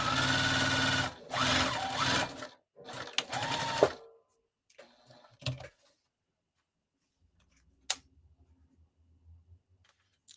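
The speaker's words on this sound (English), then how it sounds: "The sewing machine's on." A sewing machine stitching fabric for a zipper bag runs in several loud bursts with short pauses, then falls almost silent, leaving only faint clicks and one sharp tick.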